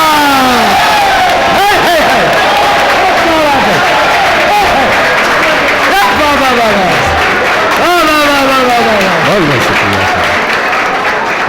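An audience applauding at a Hindi-Urdu poetry recital, with sustained loud clapping and scattered cheers as a voice keeps speaking over it throughout.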